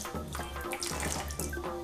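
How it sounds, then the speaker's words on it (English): Water poured steadily into a container, a continuous splashing, gurgling stream running close and fairly loud without pause, no voices over it. "final step, we're gonna add the water"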